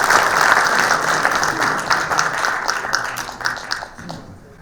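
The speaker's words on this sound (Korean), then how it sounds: "특별 강의를 해주실 조병희 명예 교수님을 힘찬 박수로 모시겠습니다." An audience applauds steadily to welcome a professor onto the stage at a university health forum, a dense wash of clapping that holds for several seconds and then thins out toward the end.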